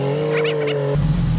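A Jeep engine revving through its exhaust, a steady, loud, droning hum that turns abruptly into a deeper, rougher rumble partway through.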